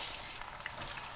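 Onions frying in oil over medium heat for a creamy shahi chicken, giving a steady, close hiss of sizzling with faint crackles throughout and no talk.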